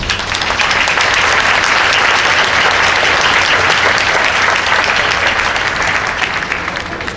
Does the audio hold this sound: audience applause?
yes